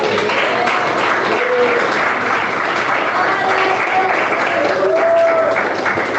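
A church congregation at an Easter sermon applauds, a loud, continuous wash of clapping that stays dense and even throughout, with some crowd voices mixed in.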